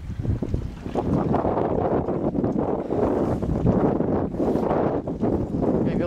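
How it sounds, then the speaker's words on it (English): A boat passing out on the water near Green Island, its engine a low, steady drone heard at a distance and partly buried under gusty wind buffeting the microphone. "What boat is that?"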